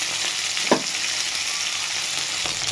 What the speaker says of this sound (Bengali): ফুলকপি আলুটা ভাজা ভাজা হয়ে এসছে